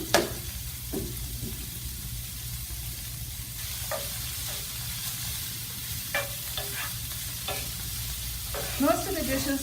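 Cold sun-dried tomatoes and chicken fry in a pan, a soft steady sizzle with intermittent scraping and stirring clatter from a utensil, close but fairly quiet, with no voices.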